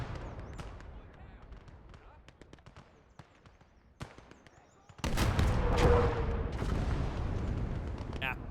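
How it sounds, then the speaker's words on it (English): Soviet 203 mm heavy artillery mortar fires in a Stalingrad battle in Gates of Hell, a sudden heavy blast followed by a loud rolling roar, after a stretch of scattered distant gunfire and crackling shots. "I think that's 203 mil artillery mortar, or heavy mortar from the Soviet Union"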